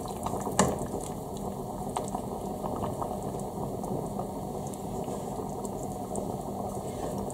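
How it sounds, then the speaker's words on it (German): Chicken soup vegetables simmering in a pot over medium heat, giving a steady low bubbling and burbling with faint clinks, continuous and close with no voices. "Und ich lasse jetzt meine Gemüse bei mittlerer Hitze für ungefähr 10 bis 15 Minuten kochen."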